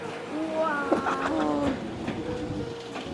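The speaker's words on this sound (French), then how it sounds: "Il y a le train qui arrive." Naruto-themed pink train arriving at a station in Japan, a steady rumble with squealing brake tones, while people talk over it.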